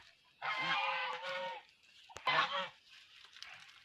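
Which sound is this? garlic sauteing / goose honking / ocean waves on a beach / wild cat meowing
goose honking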